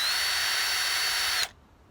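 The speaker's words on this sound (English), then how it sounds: "This is my battery drill, cordless, and it's got a drill bit on the end that's called a flat bit because it's flat." A cordless battery drill fitted with a flat spade bit bores a hole in wood, a steady high whirring whine held for about a second and a half before cutting off abruptly, heard alone without talk.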